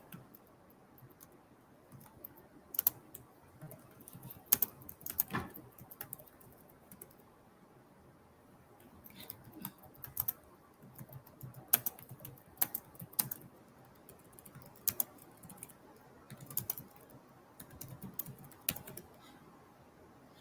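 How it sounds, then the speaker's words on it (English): Computer keyboard typing, quiet irregular bursts of clicking keystrokes with short pauses between, close and alone. "I am going to put it in the chat as I'm typing it right now."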